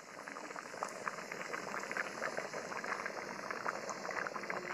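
Khichuri, a rice and lentil dish, boiling in a pot, a steady faint bubbling and popping simmer, close and continuous with no talk.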